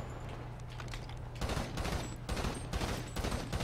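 Rapid bursts of gunfire from a shooter video game, loud and dense, coming in clustered volleys after a quieter opening stretch.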